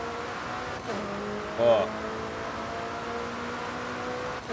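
An Audi R8 V10 and a McLaren 720S race in Forza Horizon 5, with a steady engine drone carrying through and one brief louder burst midway, while someone talks over it.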